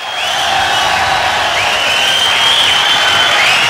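Audience at a 1977 live rock concert applauding the drummer, a dense steady wash of clapping and crowd noise with whistles rising over it, continuous and fairly loud.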